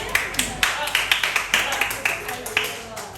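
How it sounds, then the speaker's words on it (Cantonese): A small group claps for a student named Zi Kiu at a school event, the steady rhythmic claps close and moderately loud, with some voices mixed in. "我俾掌聲子喬啦"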